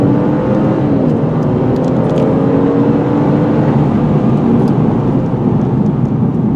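A 2019 Mercedes-Benz E450 4MATIC convertible accelerates in Sport Plus mode, its engine note rising in a steady, loud drone with broad road and wind roar throughout, no talking.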